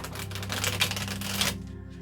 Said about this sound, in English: So another couple of shuffles, okay?